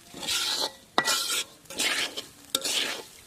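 A spatula scrapes and stirs food in a pot over a clay stove in about four rhythmic strokes, each a loud, close rasp over a faint sizzle, with a sharp clink of metal between strokes.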